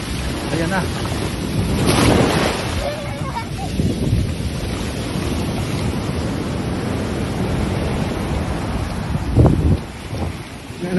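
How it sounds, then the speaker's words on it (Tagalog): Ocean waves surging onto a La Union shore, a broad roaring wash with a stronger surge early and another near the end, heavy wind buffeting the microphone throughout and no clear talk. "Ayan, nadala po ng alon."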